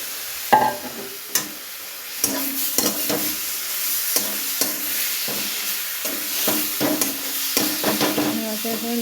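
Ground maner leaf paste, blended with green chili, is stirred into grated coconut in a pan. Repeated scraping and stirring strokes come at an uneven rhythm, close and moderately loud, over a soft background hiss.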